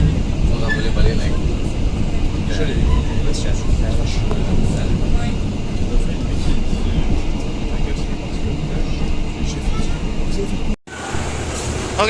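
Passenger train Sri Tanjung running on rails, a steady loud rumble and rattle of the carriages heard from on board, continuing throughout with a brief dropout near the end, while people talk in the background.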